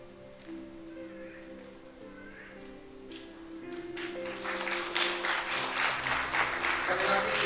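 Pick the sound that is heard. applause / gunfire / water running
applause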